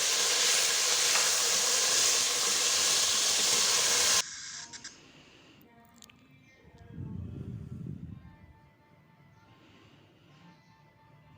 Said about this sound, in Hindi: अब मैंने इसमें चिकन ऐड करके तो इसको फ्राई करना है थोड़ा सा